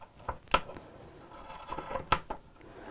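Scissors trim back the lining fabric of a simple lined apron in a quiet sewing room, giving a few crisp, close snips spaced apart with soft fabric rustling between them.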